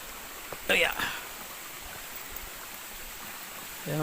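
Steady rushing water from the waterfall and flowing stream at Dampalit Falls in Los Baños, Laguna, a constant broadband wash with a brief brighter splash or voice near the start.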